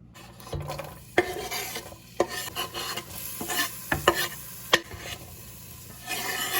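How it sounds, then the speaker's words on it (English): Onions frying in a pan, stirred now and then: a steady hiss with sharp scrapes and knocks of a utensil against the pan, no voices. "I am gonna fry up those onions now"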